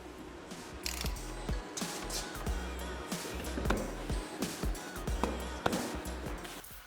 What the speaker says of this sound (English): I simply put a bolt through both holes and tighten it down with a nut.